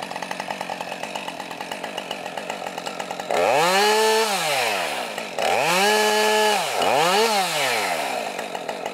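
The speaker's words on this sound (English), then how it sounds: "going to demonstrate actually getting the saw trapped during processing the timber" A chainsaw revs and cuts into timber, its pitch sagging as the bar binds and the saw gets trapped, with repeated rise-and-fall revving over several seconds.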